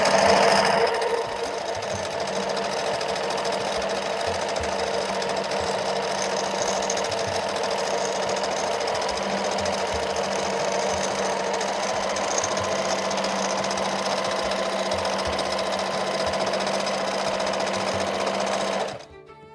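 A sewing machine runs fast and steady for free-motion quilting of a meander pattern, a continuous close mechanical whir and needle chatter that stops abruptly at the end.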